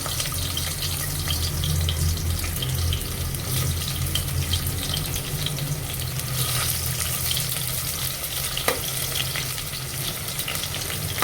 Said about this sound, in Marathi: तेल आपलं गरम झालं, आपण यात टाकणार आहोत कांदे